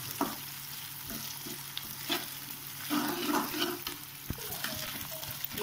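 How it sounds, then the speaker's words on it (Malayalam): A minced beef mixture for vada is stirred and fried in a pan, with a steady sizzle broken by repeated scraping strokes of the spoon, close and fairly soft, with no one talking. "നന്നായി ഇളക്കി കൊടുക്കാം"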